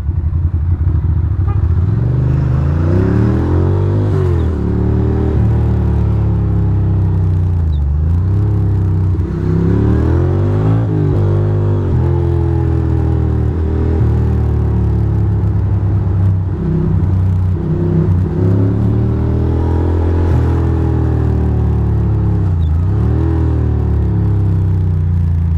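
Brooklyn street traffic heard from a vehicle driving behind a bus, a loud continuous low engine rumble with repeated rises and falls of revving and occasional clatter, steady and close throughout.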